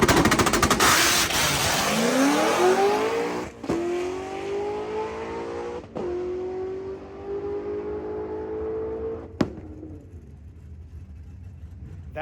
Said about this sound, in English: you'll hear the car backfire on a 3/4 shift and just shut off